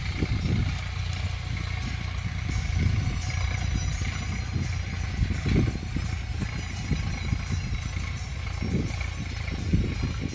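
A tractor ploughs a maize field with a steady, low engine rumble and scattered knocks and clatter, holding a constant level from start to end with no talking.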